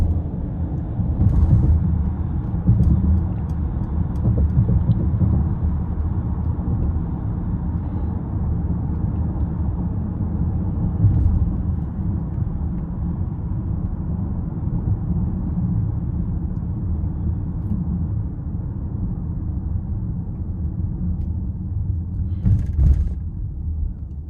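Steady low rumble of road and tire noise inside a Mercedes-Benz GLE 450 Coupe riding on 21-inch wheels over a rough highway, a continuous muffled drone with no talking.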